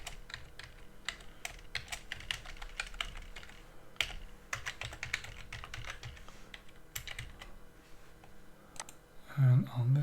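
Password being typed on an Android phone's touchscreen keyboard: a steady run of light, quick taps at close range, with a brief low voice-like sound near the end.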